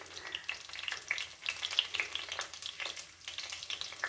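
Tomatoes fry in a pan with a dense, crackling sizzle and frequent small pops, continuous and close, with no speech over it.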